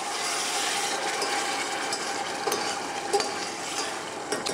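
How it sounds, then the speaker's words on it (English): Risotto rice with a ladle of fish stock just added gets stirred in a pan, a quiet steady simmering hiss with faint scraping and a few light knocks of the spoon. "I'm just going to add a ladleful at a time of the fish stock. Give that a stir."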